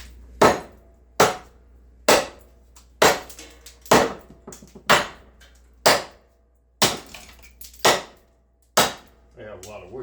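A forged cleaver made from a truck leaf spring chops into wood about a dozen times, each blow a sharp, loud crack at a steady pace of roughly one per second, close by and alone.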